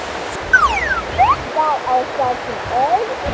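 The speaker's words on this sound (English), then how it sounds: "we've been blessed with a little rainy weather" Pouring rain in the jungle, a loud steady hiss that never lets up, with bird calls chirping and sweeping above it, and no voices heard.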